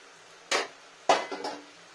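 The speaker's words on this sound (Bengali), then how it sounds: "দেখুন ফ্রেন্ডস ঢাকাটা খুলি এবার" A lid lifted off a pot of steaming cabbage: two sharp metallic clanks half a second apart, the second followed by a brief rattle, close and clear with no talking.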